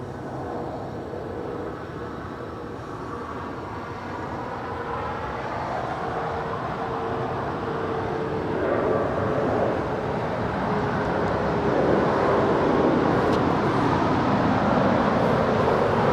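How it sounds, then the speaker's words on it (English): A heavy Boeing 777 airliner on short final to runway 25 left at LAX produces a broad, rumbling jet roar that swells steadily louder as it comes in to land. "490 LA Tower, heavy 777 short final, caution wake turbulence, runway 25 left, clear to land"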